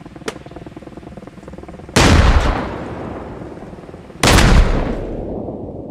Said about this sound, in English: that's Russian grenades